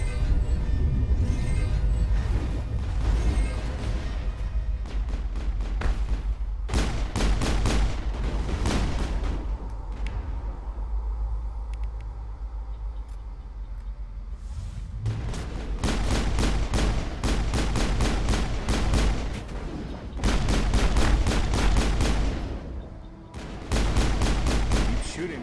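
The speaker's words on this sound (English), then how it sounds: "I'm getting really tired of getting shot at" Heavy gunfire from the Mass Effect video game, with dense bursts of rapid shots and explosive fusillades filling most of the stretch, loud and close, pausing briefly in the middle before resuming in volleys.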